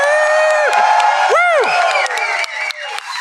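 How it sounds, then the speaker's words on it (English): A live audience at a tabletop role-playing stage show cheers loudly and continuously, with sustained crowd noise and high sliding whoops rising above it. "You guys, cheer really loud for me tonight."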